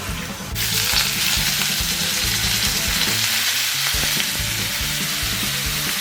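Water hits hot browned chicken gyoza dumplings in a frying pan, and a sudden loud burst of sizzle turns into a dense, continuous steaming hiss that stays close and strong to the end.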